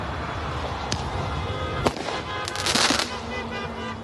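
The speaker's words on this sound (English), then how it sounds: "Are they lighting fireworks?" Fireworks pop and crackle in the distance over a steady roar of background noise, a few sharp bangs scattered through, during a farmers' blockade of a highway into Paris.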